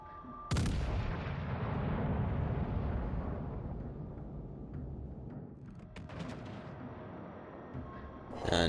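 Cruiser guns fire a naval salvo in World of Warships with a loud sudden boom, followed by a long rumbling decay and a few fainter cracks of shells landing, another blast starting at the end.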